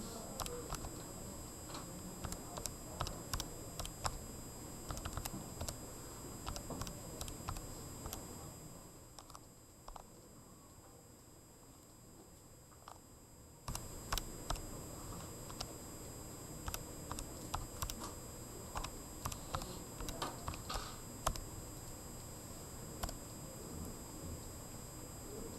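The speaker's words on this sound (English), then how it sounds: "Let's go ahead and check to see which one is the right one. We'll type in the equation." Steady clicking of keys as an equation is typed into a calculator, close and quiet, in bursts of quick taps with a pause in the middle, over a faint electronic whine.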